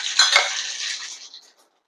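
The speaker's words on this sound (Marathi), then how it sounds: "अर्धा टीस्पून मी घालते राई" Half a teaspoon of mustard seeds lands in very hot oil in a pan, giving a short, close, bright crackle and spatter that fades out within about a second and a half.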